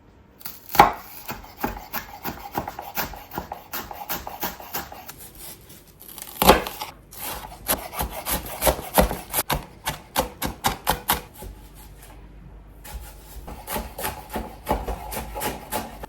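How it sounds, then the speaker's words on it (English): A knife cuts shallots in half on a cutting board for peeling in a home kitchen, giving a run of close, crisp chops and taps with irregular pauses and some rustling of the papery skins. "The way I like to peel these is just by cutting them in the middle, like so."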